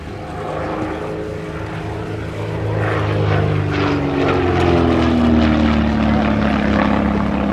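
An SF.260 light aircraft with a 260-horsepower Lycoming engine flies past at an airshow, its propeller drone loud and steady, swelling slightly as it passes with a gradual pitch shift.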